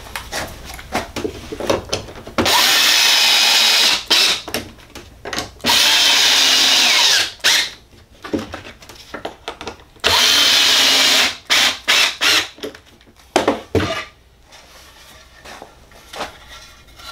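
A power drill drives screws through a Kreg 720 pocket hole jig into wood in three sustained whirring bursts of about two seconds each, separated by clicks, knocks and handling clatter, close and loud.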